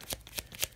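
Tarot cards being shuffled by hand during a reading, three quick riffling bursts close by with short pauses between them and no talk over them.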